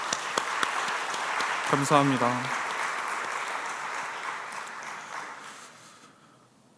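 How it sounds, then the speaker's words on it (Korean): A church congregation applauding its Sunday school teachers during a Friday prayer service, a broad wash of clapping that swells, holds and gradually fades out, with someone speaking briefly over it. "우리 교회학교 아이들을 섬기고 있는 우리 선생님들을 위해서 다 같이 격려의 박수 쳐주면 좋겠습니다."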